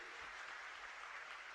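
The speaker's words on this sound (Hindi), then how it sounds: "मान्यवर के लिए एक बार जोरदार ताली बजा दें इस कार्य के लिए।" Crowd applause at a chief minister's Viksit Bharat rally held for an MLA's birthday, a steady, fairly faint wash of clapping that lasts the whole short stretch.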